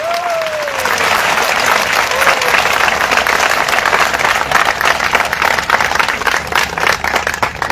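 A dense crowd at Alpesh Thakor's political rally in Lunawada, Mahisagar, claps loudly and continuously, a sustained wall of applause after a brief voice at the start.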